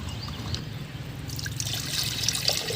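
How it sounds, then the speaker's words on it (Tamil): Water poured into a clay pot holding pearl millet for porridge, a soft steady trickle that grows brighter and splashier in the second half, close and alone. "மண்பானை வச்சுட்டு இப்போ நம்ம கம்பு வந்து வேகிற அளவுக்கு வந்து தண்ணி ஊற்றிக்கணும்"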